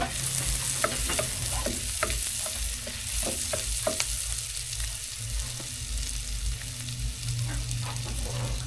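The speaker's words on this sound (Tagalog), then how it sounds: "okay na yung ating margarine. Lagay ko na yung bawang." Garlic frying in melted margarine in a pan, a continuous close hiss and sizzle with scattered spatula stirs and scrapes over the top, no talk.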